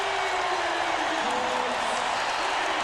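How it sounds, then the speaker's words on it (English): Large indoor basketball crowd of about 17,000 at Key Arena in Seattle cheering and applauding during a 1997 playoff game, a steady dense roar of clapping and voices throughout. "Now the crowd into it."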